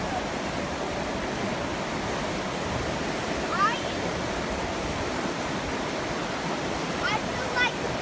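A river rushes below a waterfall in a steady, loud roar heard from close above, a constant broadband wash with a few faint higher voices briefly surfacing.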